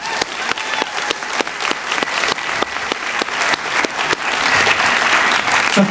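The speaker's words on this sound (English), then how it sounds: "So a round of applause, even though she's not here." Audience at a graduation ceremony claps for an award recipient, a loud, close wash of many hands with sharp individual claps standing out, building slightly denser toward the end.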